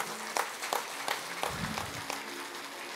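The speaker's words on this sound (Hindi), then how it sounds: "एक बार सभी एक दूसरे के उत्साहवर्धन के लिए तालियों की गड़गड़ाहट करें।" Faint audience clapping at a spiritual gathering in a courtyard in Latehar, a few soft claps spaced out over a quiet, hissy background.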